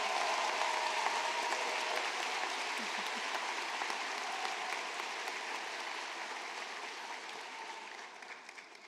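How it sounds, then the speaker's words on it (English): A large graduation ceremony audience applauds in a broad, steady wash of clapping that fades gradually, heard at a distance in a big hall with no talking over it. "Please join me in an enthusiastic round of applause for your parents, your family, and those that have helped you get here along the way"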